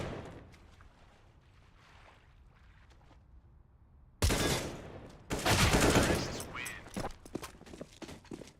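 Sharp pistol shots from USPs in a Counter-Strike esports match, a quiet opening that gives way to sudden loud bursts of rapid gunfire in the second half, with shots crowding together and echoing.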